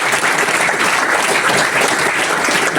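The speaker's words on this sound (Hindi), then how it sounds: "मैं चाहता हूं कि 1 मिनट के लिए जोरदार तालियां" Loud, dense audience applause at a felicitation ceremony honouring a guest, many people clapping close and continuously with no talk over it.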